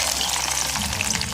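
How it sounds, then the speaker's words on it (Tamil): Garlic frying in hot oil for a Jaffna-style drumstick curry, a busy crackling sizzle with scattered sharp pops, close and continuous through the short clip. "உள்ளியை பொரிச்செடுப்போம்."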